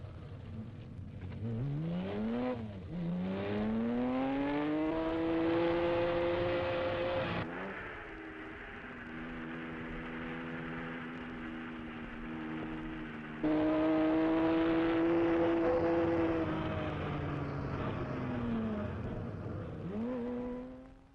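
Rally cars from the 1972 Cyprus Rally climb mountain roads: a loud engine revs up and holds through rising gear pulls, with two clear shifts and a droning, strained tone close by and alone.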